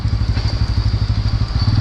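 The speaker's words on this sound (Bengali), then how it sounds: "হড়কাচ্ছে পেছনের চাকা।" Motorcycle engine chugging unevenly at low revs on a rough off-road mountain track in Sikkim as the rear wheel slips, with a pulsing, stuttering throb close by.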